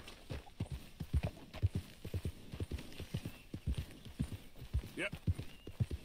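A horse in Red Dead Redemption 2 gallops at a steady pace, with repeated clip-clop hoofbeats in a quick rhythm, while someone talks over it.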